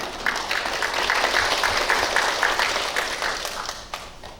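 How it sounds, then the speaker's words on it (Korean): Audience applause at a Buddhist ritual culture research institute academic conference, a steady wash of clapping from a seated crowd that holds for several seconds and thins toward the end. "큰 박수로 맞이해 주십시오."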